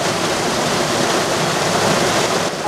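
Wastewater rushing and churning at a city sewage treatment plant in Lutsk, a steady, loud broadband roar of flowing water that stays even throughout, close by, with no voices.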